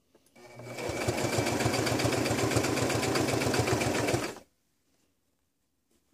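A sewing machine stitches fabric for a skirt in one steady, fast run of rapid even needle strokes lasting about four seconds, then stops abruptly into silence.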